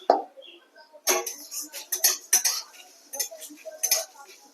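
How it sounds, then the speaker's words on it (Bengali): Panch phoron spices dry-frying in a pan make a quiet rattle, with bursts of metallic scraping and clinking as a spoon stirs them. "এবার আমি এটাকে ভালো করে ভেজে নেব"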